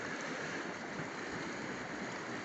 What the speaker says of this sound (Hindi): अविरल गंगा, गंगा का पानी।